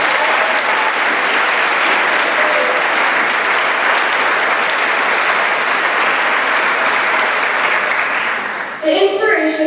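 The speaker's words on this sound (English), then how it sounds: "let's give a round of applause for Taylor." A high school graduation audience breaks into sustained, loud applause that fills the hall for about nine seconds, dense and even, before a voice begins over its fading tail.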